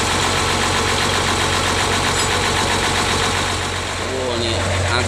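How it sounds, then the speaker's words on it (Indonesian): A heavy truck engine, just overhauled with new pistons, idles steadily up close, with a low, even rumble and faint knocking that holds for several seconds. "Suaranya mesin lebih mantap ya sekarang ya, setelah turun mesin pistonnya baru"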